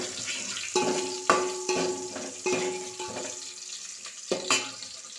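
Onion and garlic frying in hot oil with mustard seeds and cumin, stirred with a spoon, giving repeated scraping strokes over a soft steady sizzle.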